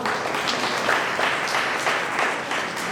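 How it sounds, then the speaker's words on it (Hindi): Loud, sustained applause from an audience at an evening religious programme, steady dense clapping filling the whole stretch without a break. "जोरदार तालियां।"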